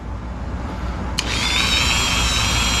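Cutting disc on a rotary tool grinding a screwdriver slot into an electric motor part, starting with a sharp contact click and then a loud, steady high-pitched whine over a constant motor drone.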